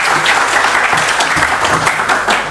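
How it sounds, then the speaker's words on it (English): Audience applause at an engineering student club presentation, a steady dense wash of clapping hands sustained for a few seconds at close range without speech. "Please, an applause."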